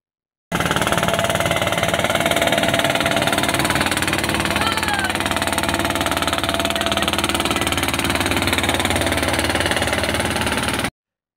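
Fishing trawler engines idle at a jetty on the Bangladesh–Myanmar transit ghat with a steady, loud, rumbling drone and mechanical knocking. The sound holds constant and close for the whole stretch, and no voices are heard.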